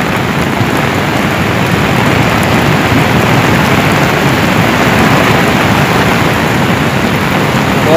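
Heavy rain pours without a break during a cold lahar flood from Semeru, a loud, dense wash of hiss and roar across the whole stretch with no voices.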